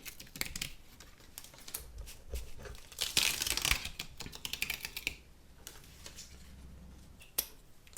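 Adhesive vinyl is peeled away from a ScanNCut cutting mat up close, giving crisp crackling and tearing rips that swell in a louder burst midway, then ease into quieter rustles and a final snap.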